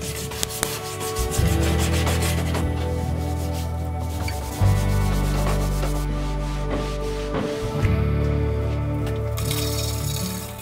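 A 2.5-inch carbide scraper drags over an old blue-painted wooden dresser, stripping paint and finish in long, loud, rasping strokes separated by short pauses, up close and alone.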